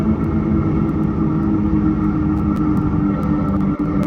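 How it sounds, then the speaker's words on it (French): A TGV high-speed train between Marseille and Avignon braking gently, heard from inside as a steady loud low rumble and hum with faint intermittent clicks and no talking. "on freine tout doucement"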